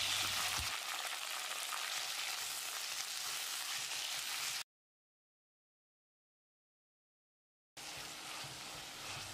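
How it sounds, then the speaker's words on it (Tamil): Chopped tomatoes sizzle and fry in hot oil with mustard seeds, fennel, curry leaves and green chillies in a clay pot for dry fish curry, a dense close crackling hiss that stops abruptly into silence and then resumes. "1/4 கிலோ அளவுக்கு நறுக்கின தக்காளியை சேர்த்து வதக்கிடலாம்."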